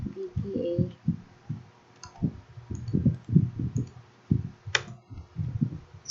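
Clicky keystrokes typing a command into a PC command prompt, a rapid irregular run of close taps that pauses briefly and resumes, with one sharper click near the end.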